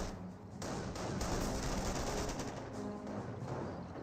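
Sustained rattling small-arms and machine-gun fire crackles continuously in a Company of Heroes World War II battle, dense overlapping bursts forming a steady wall of combat noise.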